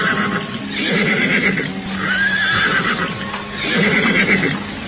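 Horses in a battlefield audio drama neigh and whinny loudly in three close, repeated bursts, with hoofbeats clattering underneath as they run off.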